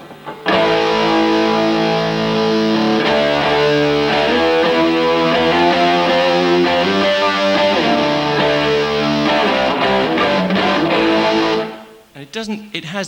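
A loud, sustained electric guitar rings out power-chord fifths with a slightly overdriven tone, then stops abruptly near the end.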